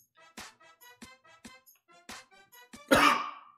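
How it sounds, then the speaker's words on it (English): A single sharp cough bursts out near the end, loud and close, after a run of quiet clicks and chewing sounds while someone eats spicy food; no talk. "Cough it up."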